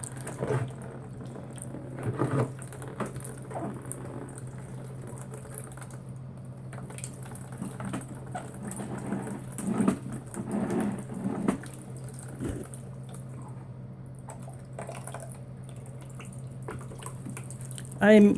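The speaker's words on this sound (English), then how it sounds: "This hose came out, and I tried to put it back in, but it still leaks." Water leaking from a loose hose on a foot-powered laundry bucket, heard as faint intermittent trickling and dripping over a low hum, with a few louder splashy moments and background voices.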